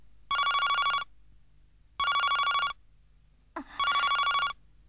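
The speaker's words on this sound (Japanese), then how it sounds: "私を呼ぶのは携帯電話？" A mobile phone rings with three bright, buzzing electronic bursts about a second long each, evenly spaced by short silences, loud and close, with a brief thump just before the last ring.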